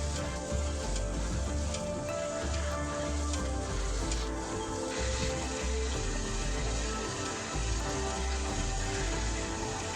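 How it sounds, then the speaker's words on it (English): Waterfalls in the Makuri Islands of the Zwift cycling game rush in a constant, loud wash of falling water, steady from start to finish with no voices over it. "You can hear the waterfalls as we go over this again."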